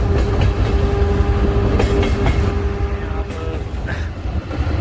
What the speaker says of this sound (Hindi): इस वक्त हमारी ये ट्रेन चल रही है